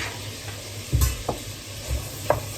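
A spoon stirs sweet potato in a pot of salmon and broccoli chowder, giving a few soft, close scraping strokes with short pauses in a quiet kitchen.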